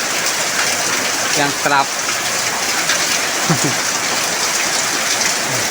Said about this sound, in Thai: นี่เราสู้ยืนถ่ายตอนฝนตกเนาะ